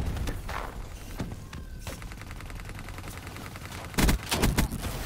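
Video game gunfire, with scattered shots and sharp cracks through a busy mix and a louder cluster of heavy shots near the end.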